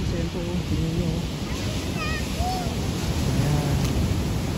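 Big ocean waves roar as a broad, continuous wash of surf close by, blended with wind buffeting the microphone and people talking excitedly over it.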